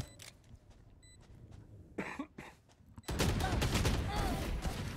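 Sheriff pistol shots fired through a wall in the Valorant game, a few sharp cracks followed by a louder burst of noisy action, with faint voices underneath.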